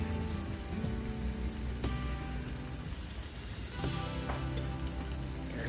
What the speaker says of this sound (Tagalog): So gisa muna natin to mga 10 to 15 minutes siguro, pero check nyo rin baka masunog siya.